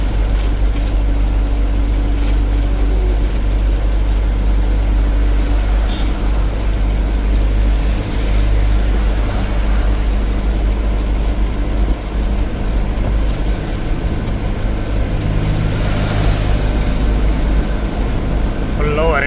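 Steady highway traffic of cars and lorries on the NH44 at Nallampalli during snowfall, a continuous loud engine and tyre rumble with vehicles passing close by.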